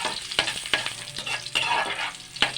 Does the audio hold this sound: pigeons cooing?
no